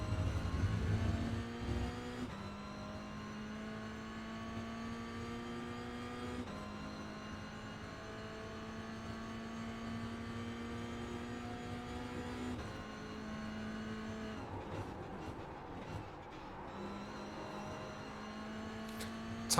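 A Toyota GR86 race car engine in iRacing revs hard and shifts through gears on the Imola circuit, with steady harmonic drones stepping up and down over a sustained loud run, no talk.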